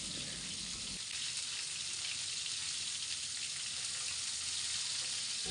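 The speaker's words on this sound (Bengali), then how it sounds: "এখন আমি টমেটোগুলোকে একটু ভেজে নেব" Tomatoes fry in a pan with a soft, continuous sizzle, faint and even throughout, with no talking.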